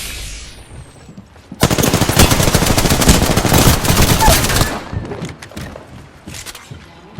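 Heavy gunfire in the Apex Legends battle royale, a sustained loud automatic burst of rapid shots lasting a few seconds, followed by scattered quieter thumps and distant reports.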